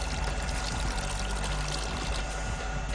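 Desalinated water runs from a tap in a steady, continuous gush, close and fairly loud, with no break over the few seconds and no voices.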